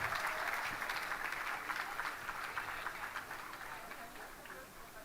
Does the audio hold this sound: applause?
yes